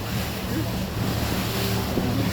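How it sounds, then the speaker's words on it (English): A river flowing through London, heard as a continuous broadband wash of moving water mixed with heavy wind buffeting the microphone, steady and unbroken throughout. "The river's flowing."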